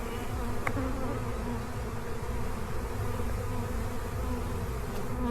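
Bees swarm and buzz around an open beehive full of brood, pollen and nectar, a dense continuous hum that stays close and steady throughout.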